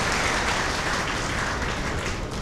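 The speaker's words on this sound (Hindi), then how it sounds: "एक बार जोरदार तालियां डॉक्टर मानसी द्विवेदी जी के लिए बजाइए" A crowd at a Hindi poetry gathering claps hard for a poet, giving a thick, continuous roar of applause at full volume.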